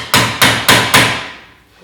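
Four sharp metallic hammer strikes drive a pry bar in while disassembling a Polaris RZR front end, landing in a steady rhythm, close and loud, each ringing briefly before the last fades away.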